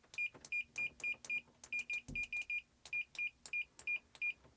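A Tesmen TSM-192 multimeter on continuity gives a rapid string of short, crisp beeps close by, each sounding as the probes touch and sometimes coming in quick pairs, with light clicks of probe contact between them and no voices.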